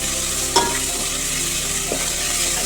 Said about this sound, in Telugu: ఈ అల్లం చిన్నగా పేస్ట్ కొంచెం పచ్చి వాసన పోయేలా ఫ్రై చేసుకోవాలి